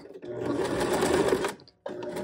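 A sewing machine stitches steadily for about a second and a half, reversing into a backstitch over a seam on pajama shorts, then stops briefly before the motor whirs again, close and fairly loud.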